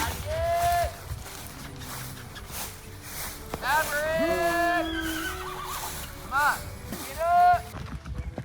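A horse neighs repeatedly, calling out to join the others in a farm paddock, with several loud whinnies spread through the clip and other voices talking in between.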